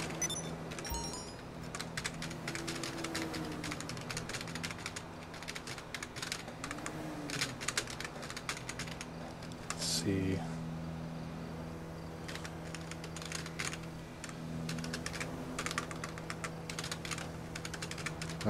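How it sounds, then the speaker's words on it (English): Typing on a computer keyboard during a GTA gaming stream: a fast, steady run of faint key clicks that lasts throughout, over a low background hum and tones, with no speech. "I'm typing the cryptic real quick."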